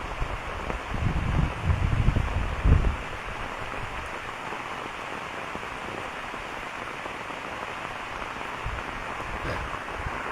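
Steady rain falls across a bamboo grove beside a village path near a wetland, a dense even hiss with a louder rumbling gust early on before settling into constant patter.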